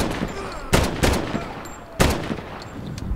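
Gunfire in Medal of Honor (2010): loud broadband shots at about 0.7, 1.0 and 2.0 seconds with smaller cracks between, over a steady battlefield rumble, no talk.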